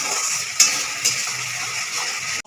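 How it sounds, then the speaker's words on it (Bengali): Masala spices with a little sugar fry in oil in a pan for a katla fish jhal, giving a steady close sizzle broken by a couple of sharp spoon-against-pan clacks as the mixture is stirred. "সব দিয়ে আমি ভালো করে 10 মিনিট একটু কষে নেব।"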